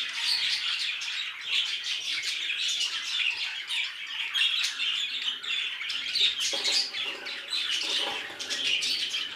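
Rainbow budgerigars, a mauve opaline light-wing female with violet factor and her chick, chirp and squawk continuously in busy overlapping calls, close and fairly loud, with a few wing flutters.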